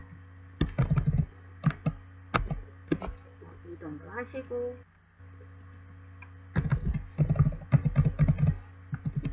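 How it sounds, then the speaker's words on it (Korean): Computer keyboard keys click in quick bursts during Photoshop work, with clusters of sharp taps at the start and end and a voice talking in the quieter middle stretch. "키보드 방향키 이용하셔도 됩니다."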